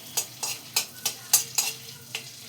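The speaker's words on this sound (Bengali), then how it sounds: "এই যে তোমার রসুনটাকে কুচিয়ে নিয়েছি, নিয়ে এটা আমি এর মধ্যে ভেজে নিচ্ছি।" Chopped garlic fries in a pan while a spatula stirs it, about eight crisp scraping strokes in a steady rhythm over a soft background sizzle, close and with no talk.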